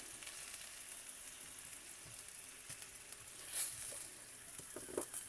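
Delicata squash sizzles in a roasting pan with a steady, quiet frying hiss, a few soft clinks and scrapes breaking through near the end.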